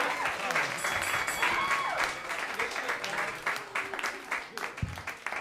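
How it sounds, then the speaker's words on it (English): Audience applause at a New York comedy club roast battle, a steady wash of clapping from a packed room that carries on for several seconds with voices mixed in. "Give a round of applause."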